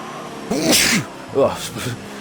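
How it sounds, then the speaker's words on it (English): A sharp, loud sneeze bursts out nearby with a gasping intake, followed by a second shorter burst. "I couldn't hold that sneeze in any longer."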